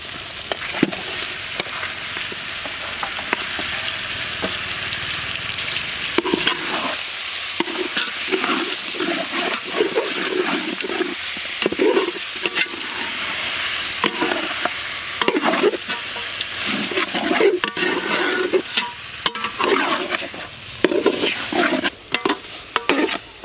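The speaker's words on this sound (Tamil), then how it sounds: "கறியை வந்து போட்டு ஒரு 5 நிமிஷம் லேசாக அந்த பூண்டு பேஸ்ட்டில் வந்து பரட்டிக்கிட்டு" Black kadaknath chicken meat fries in garlic paste with steady sizzling and repeated scraping stirs of a utensil in the pan, close and continuous.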